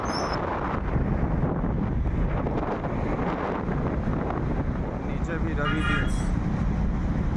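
Wind buffets the microphone during a motorcycle ride along a hot, sunny highway near Surat in Gujarat. A dense, constant roar of gusts fills the whole span and stays loud and close.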